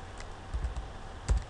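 Quick, light keystrokes on a computer keyboard as a file name is typed, a handful of soft clicks spaced irregularly with a sharper tap near the end, close and quiet.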